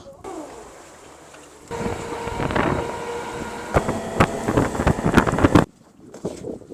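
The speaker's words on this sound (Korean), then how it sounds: "지금 타고 있는 배." A small fishing boat with a recently replaced engine runs out at sea to the webfoot octopus grounds, giving a steady low rumble buffeted by wind, with clattering knocks and bangs toward the end and no talking.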